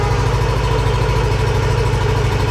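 A Yamaha NMAX Techmax scooter engine fitted with a UMA back-pressure muffler runs steady at 3,000 RPM, a close, loud, even exhaust thrum with a rapid pulsing beat and no voices over it.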